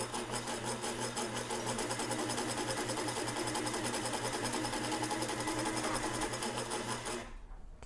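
A sewing machine stitches forward and back with a rapid, steady mechanical chatter, loud and close, running for several seconds before stopping abruptly.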